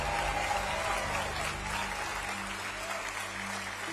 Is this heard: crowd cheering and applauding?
yes